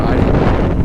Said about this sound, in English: as crappy as this wind is